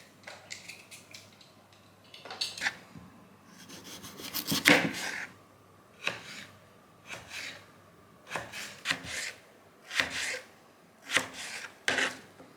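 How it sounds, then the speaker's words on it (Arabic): Repeated rasping scrapes and short cutting strokes come in bursts with pauses between, like potatoes being peeled and sliced close by, with no talking. "طلعت 3 حبات بطاطس نقشرها ونقطعها"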